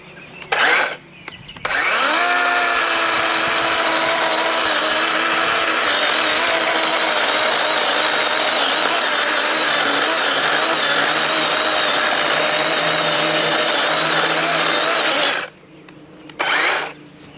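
DeWALT 20V XR cordless chainsaw cutting through dead wood: after a couple of short bursts, the motor whines steadily at high speed for about fourteen seconds, then cuts off, followed by another brief rev. It is loud and close, with no talking.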